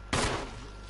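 A single gunshot fired in Resident Evil on PS4, a sharp loud crack with a brief decaying tail, standing alone.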